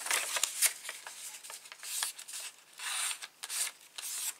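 Scored paper being folded and creased by hand for a junk journal, giving soft rustling, rubbing and crinkling bursts in an irregular rhythm, faint and close with no voices.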